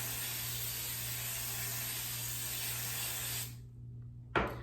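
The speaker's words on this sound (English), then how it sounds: "this Tresemme extra hold spray, and I just spray it around" A long continuous hiss of Tresemme extra hold hairspray from an aerosol can, held steady for several seconds, then stopping, followed by a brief soft rustle.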